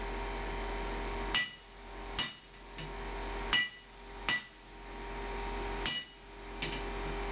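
Blacksmith hammering hot metal on an anvil: six sharp, ringing metallic strikes at uneven intervals over a steady low hum, each blow clear and close.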